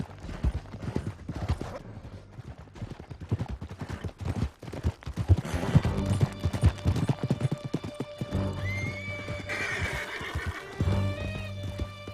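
Horses gallop across a canyon in Red Dead Redemption 2, hooves pounding in rapid irregular beats while one horse whinnies loudly near the end, all fairly close and largely without talk.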